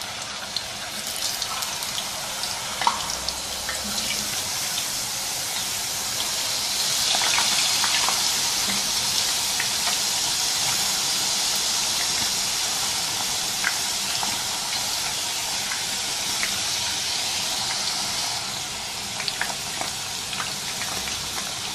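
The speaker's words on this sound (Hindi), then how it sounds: "तेज़ आंच के ऊपर कढ़ाई रखी है, तेल गरम हो चुका है। अब इसमें ये चिप्स डालेंगे।" Thin potato chip slices fry in hot oil in a kadai over a high flame, giving a continuous dense hiss and bubbling that swells a little after the first few seconds and then holds steady.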